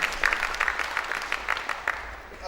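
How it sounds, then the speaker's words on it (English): Applause from an audience at a university event, a modest burst of clapping with distinct individual claps, moderately near, no one speaking over it. "A big round of applause for Professor Prasad."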